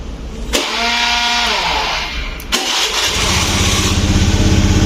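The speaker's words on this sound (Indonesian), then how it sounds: "Nih, saya coba akan starter." A small engine is cranked with an electric starter and catches, then runs with a steady mid-pitched hum; a second start follows about two seconds later, loud and close.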